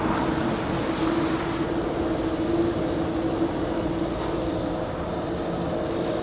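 An Air Canada Airbus A330 airliner at Los Angeles International Airport gives a steady, continuous jet engine roar with a low hum, sustained at even loudness throughout, with no voices.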